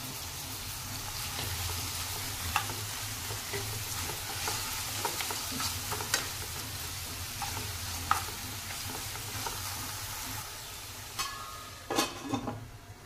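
Tomato, garlic and chili fry in a pan for aloo palak, potato and spinach curry, with a low steady sizzle and occasional spatula scrapes and taps against the pan. No one speaks.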